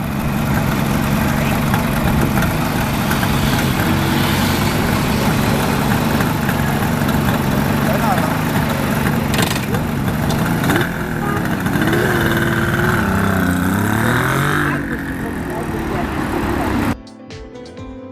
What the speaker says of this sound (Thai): เครื่องยนต์ลูกนี้ถูกออกแบบให้วางเลเยอร์แถวละ 8 สูบฝั่งละ 3 แถว ทั้งหมด 6 แถว เท่ากับ 48 สูบ